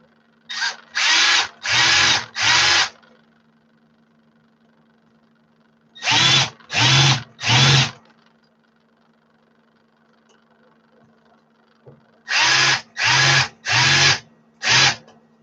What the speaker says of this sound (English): I'm going to go ahead and spot drill those